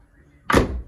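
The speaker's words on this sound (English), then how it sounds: "As soon as I open the door," A Citroen C2 car door is opened, a single close, loud thunk midway through after a quiet moment, with a short fading rumble after it.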